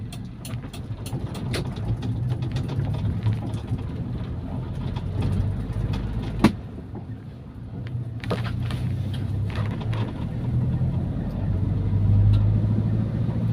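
A carbureted Toyota Kijang K4 engine runs steadily near 2000 rpm in a low, continuous hum, with scattered clicks and knocks over the top and one sharp tap partway through.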